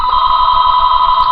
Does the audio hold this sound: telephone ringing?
yes